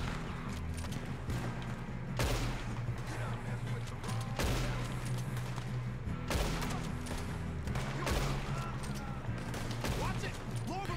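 Sustained gunfire in Red Dead Redemption 2 during a train robbery, loud repeated shots and volleys throughout, with people shouting and talking over the shooting.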